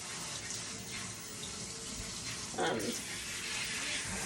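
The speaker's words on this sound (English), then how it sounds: "with this setup here in the sink, the water pressure comes out so great" Water running steadily from a kitchen sink tap at strong pressure, a continuous hissing splash with a brief louder gush partway through.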